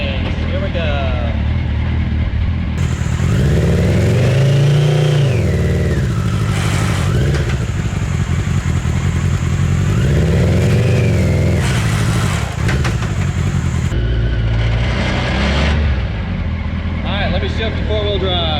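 A mini trophy truck's engine revving in two-wheel drive low range, the pitch climbing and falling in long surges, close and loud, with steady idle between pushes.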